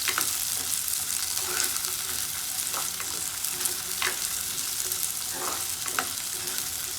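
Onion and a piece of ginger fry loudly in hot oil for mutton curry, a dense continuous sizzle with occasional stirring clinks, close up and without talk.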